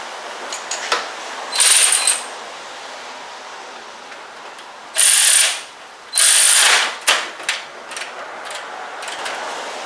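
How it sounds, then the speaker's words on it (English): A ratchet wrench torques down the timing chain tensioner bolt on a 2007 Range Rover 4.2 Supercharged during valve timing work, giving several short bursts of close, bright ratcheting clicks separated by quiet pauses. "I'm going to go ahead and torque this down."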